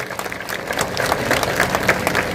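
A crowd at a political rally in Gorakhpur breaks into steady, dense applause to welcome a speaker, a continuous wash of clapping filling the space with no voices on top.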